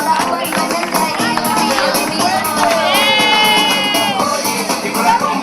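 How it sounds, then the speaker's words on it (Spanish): Audience applause and cheering at a charity running race awards ceremony, a dense, steady wash of clapping with crowd noise, loud and continuous throughout, a brief whistle rising partway through. "Un aplauso fuerte"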